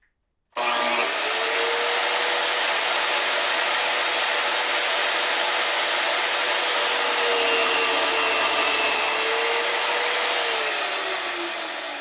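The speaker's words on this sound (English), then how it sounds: "I can belt sand it in with my belt sander" A belt sander grinds steadily against guitar wood in a shop, a loud continuous broadband whir that starts abruptly and runs unbroken for about eleven seconds, with a faint motor tone sliding slowly underneath.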